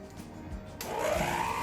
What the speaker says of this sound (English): And now we are going to mix it together, blend it together. Sorry for the noise.